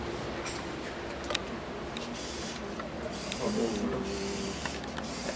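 A battery-powered automated pH doser stirs a solution with a faint, steady mechanical whir and occasional soft ticks, heard close but quietly, and a few brief voiced sounds partway through.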